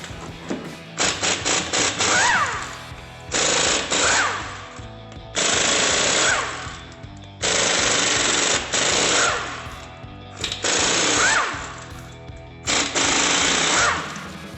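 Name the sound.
wrench removing lug nuts to take wheel off GMC Sierra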